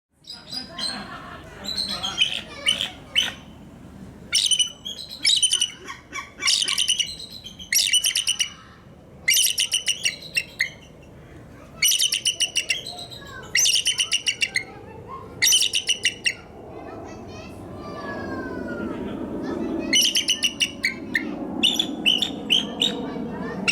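A bird near a castle boathouse at Warwick Castle gives a series of sharp, bright chirps and squawks in quick bursts, loud and close, with a rough rustling noise building underneath toward the end.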